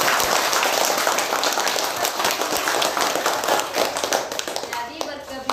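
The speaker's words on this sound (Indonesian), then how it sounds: "tepuk tangan untuk Edi." Schoolchildren clapping hands in an Indonesian primary school classroom, loud and busy at first, then thinning into scattered claps with children's voices mixed in near the end.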